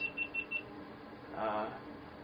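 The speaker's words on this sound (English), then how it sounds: "My GoPro is beeping at me over there." Four quick, thin beeps from a GoPro camera chirp in rapid succession, followed by a faint murmur of a voice nearby.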